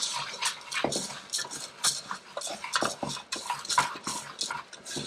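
A seasoning rub of salt, pepper and thyme mixed in a small bowl, with quick, close clinking and scraping of a utensil against the dish in busy irregular bursts throughout.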